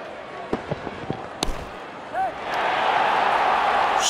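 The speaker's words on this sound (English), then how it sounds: "The crowd is enjoying every bit of this action" Cricket stadium crowd at an Afghanistan versus Ireland T20 international, rising into a broad, sustained roar of cheering after a few sharp bat or ball knocks, loud and continuous toward the end.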